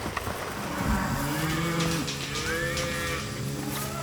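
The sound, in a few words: cattle mooing on a ranch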